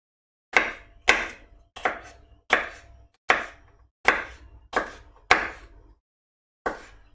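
A knife chops through green pepper on a cutting board in nine crisp, evenly spaced strokes, a short pause before the last one, each a sharp close knock with a quick decay and no talking.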